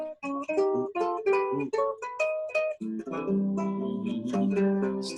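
A whole-tone scale played on a pitched instrument, first as quick separate notes in a run, then settling into overlapping sustained tones, with no talking.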